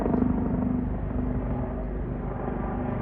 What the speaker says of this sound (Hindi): ये देखिए जी जहाज़ और हेलीकॉप्टर।